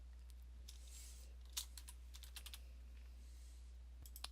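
A computer keyboard clicks in quiet, short bursts of typing, with a steady low hum underneath.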